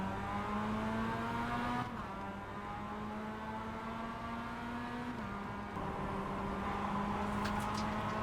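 Race cars in a racing video game launch off the start, a dense whining engine chorus with rising gear-by-gear pitch sweeps and shifts, steady and loud, with a brief tire squeal near the end.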